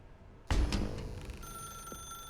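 A telephone in The Stanley Parable gives a loud ringing burst with a sharp onset, followed by a sustained electronic tone that holds steady and fades slightly, heard alone without talk.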